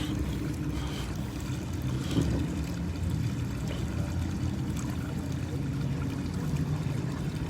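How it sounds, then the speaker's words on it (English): Water from a garden water feature runs and splashes steadily, a dense continuous wash that stays loud and unbroken throughout. "Ralph's Living Dangerously on the water feature."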